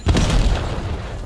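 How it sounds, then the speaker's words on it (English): An enemy flashbang detonates in a video game, a loud close boom with a broad rumbling tail that fills the moment, with a voice speaking over the blast. "Enemy flashbang."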